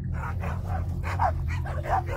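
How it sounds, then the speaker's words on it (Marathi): Several dogs bark repeatedly at night (around 2 a.m.) near a sand heap, with short moderately loud barks in an uneven rhythm over a low steady background hum. "आजूबाजूला खूप कुत्रे भुंकत होते"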